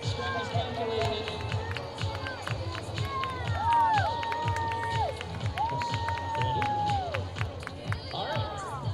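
A crowd at a baseball game between the Oakland Ballers and Red Pocket Mobiles cheers and shouts steadily, with whistle-like tones sliding over the din and an announcer talking through it.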